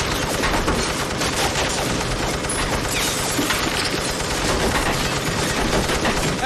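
Police officers empty their magazines inside an apartment building: a dense, continuous barrage of overlapping gunshots, loud and sustained with no gaps throughout.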